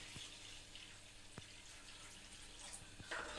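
Water poured from a steel glass into a pan of fried spices for potato curry, a faint, steady wash of splashing liquid with a few soft clinks, low in level throughout.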